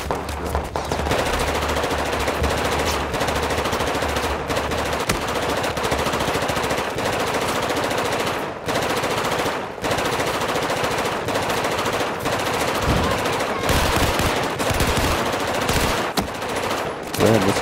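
Automatic weapon fire in Battlefield 4, loud and continuous, with rapid repeated bursts of gunshots filling the whole stretch and brief gaps between volleys, and no talk over it.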